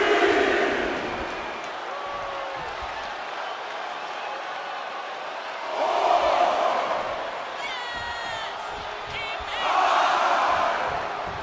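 Arena crowd cheering during a WWE Monday Night RAW match between Penta and Bron Breakker in the WWE 2K25 wrestling game, a steady roar that swells loudly twice, with shrill whistles rising above it.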